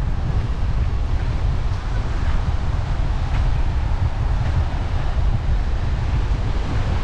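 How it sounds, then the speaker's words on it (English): Strong wind of about 20-25 knots buffets the microphone in a constant low roar on a beach in Mykonos, Greece, with waves and surf rushing in the background and no voices. "So here it's the beach, it's very windy."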